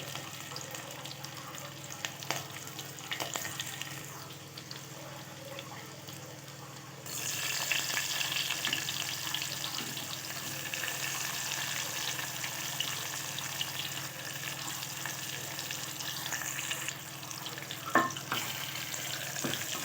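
Garlic, green chili, curry leaves and onion sauté in oil for Maharashtrian masale bhat, a steady soft sizzle that grows louder partway through and carries on evenly with faint stirring scrapes.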